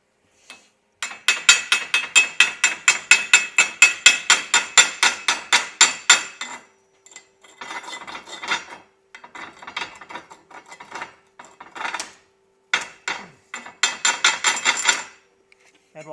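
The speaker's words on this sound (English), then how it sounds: "Here's Shane clearing off the slag off his 6010." A chipping hammer knocks slag off a 6010 stick weld bead in a fast run of sharp metallic taps, then breaks into shorter irregular bursts of clinks and scrapes, close and loud.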